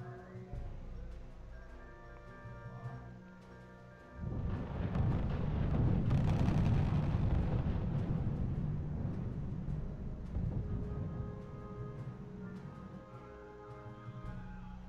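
Artillery barrage in the real-time strategy game RUSE, a broad rumbling swell of explosions rising suddenly and sustained for several seconds before easing off, with a lighter game soundscape before it.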